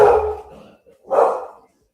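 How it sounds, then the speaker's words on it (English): A dog barks twice nearby, two short, sharp barks about a second apart, alone without other sound. "I heard my damn dog barking"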